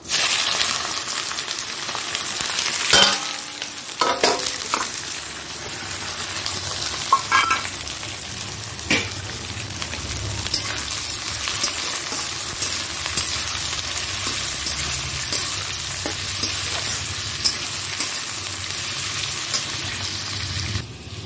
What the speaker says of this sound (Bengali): তেলটা গরম হয়ে গেছে, পেঁয়াজগুলো দিয়ে দিচ্ছি।